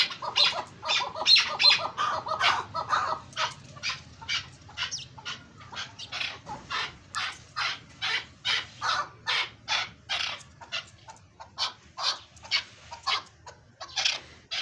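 Captive chukar partridges kept in a warm breeding enclosure call back and forth in a steady run of loud, rhythmic, repeated clucking notes that continue without a break.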